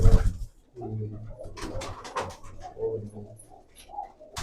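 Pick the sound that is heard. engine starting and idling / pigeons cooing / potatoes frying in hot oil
pigeons cooing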